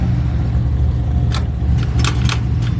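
An FR-S sports car with a swapped-in battery cranks loudly and steadily as it tries to start, a low droning churn joined by a few short metallic clicks and rattles.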